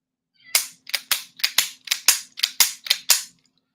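A cap and ball black-powder revolver fired outdoors in quick succession: about nine sharp, loud, evenly spaced shots with short decays between them, and no talking.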